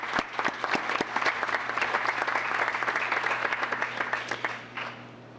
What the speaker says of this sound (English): if you could join me in a round of applause for those in our police and fire departments